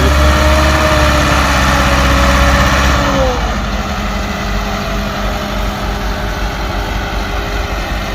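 A tractor engine runs steadily at a tractor fair in Dadyal, Azad Kashmir, its loud, close, droning hum holding an even pitch throughout with a slight shift partway through.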